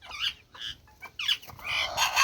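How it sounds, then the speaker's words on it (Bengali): A hefty village rooster gives several short, loud clucking calls in quick bursts, close by, with quiet gaps between them. "মোরগটা তো হেভি মোরগ।"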